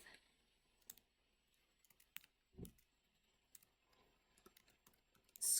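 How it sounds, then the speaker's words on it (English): Keys on a computer keyboard are typed in sparse, irregular clicks, quiet and close in an otherwise silent room, with no voices. "we will go back to Visual Studio Code and we will type"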